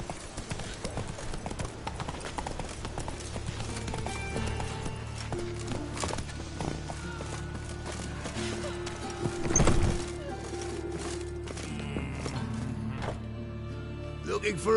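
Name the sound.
horse Roach galloping in video game The Witcher 3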